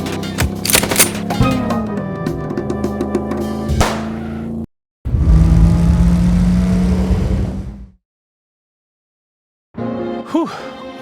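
Video-game gunfire in a police game: rapid, loud bursts of automatic shots mixed with engine roar, a brief gap, then another dense sustained volley that cuts to silence before a few final sharp shots.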